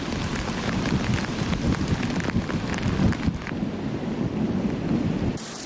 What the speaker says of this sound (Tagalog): malakas na ulan at hangin na ang naranasan dito.